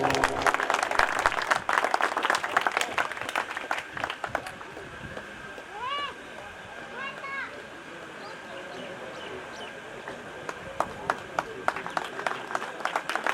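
Clapping from a gathering at a Delhi Police driver selection event, bursts of claps at the start and end around a quieter stretch with talk and background noise, at moderate, somewhat distant level.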